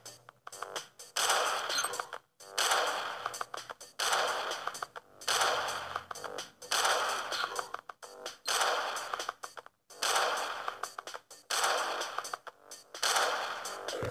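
Bursts of rapid gunfire from a shooting video game come in repeated volleys separated by short silences, each burst dense and clipped, fairly quiet overall.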